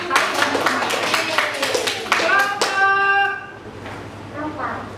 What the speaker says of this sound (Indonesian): Tepuk tangan buat kelompok Deara